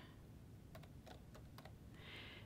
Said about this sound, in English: I'm going to type test results are correct